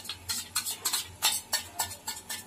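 Spoon stirring mango ice cream mixture with added cream in a pan, a quiet steady rhythm of about nine scraping strokes, close and alone.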